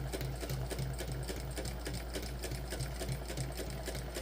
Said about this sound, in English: now I'm top stitching the top part and basting the